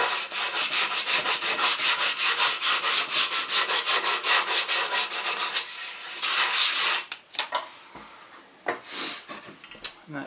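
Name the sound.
hand sanding wood with sandpaper for patio chair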